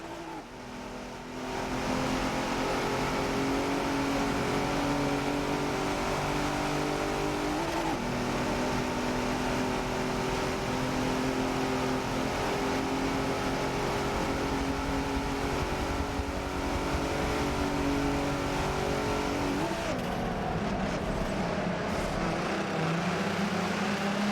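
A pack of Raptor racing cars in Forza, engines droning and revving together in a sustained loud roar, pitch shifting as they accelerate and pass, with no talk over it.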